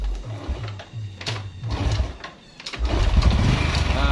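A Honda Revo motorcycle, checked for lost ignition and fitted with a borrowed original used regulator, starts up: a rough, close engine rattle that turns over, dips briefly, then settles into a steady idle.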